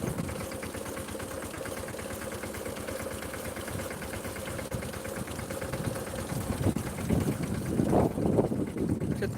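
A tractor engine chugs steadily at idle throughout on a brinjal farm during fertilizer application, with wind buffeting the microphone and the rumble growing louder and rougher near the end.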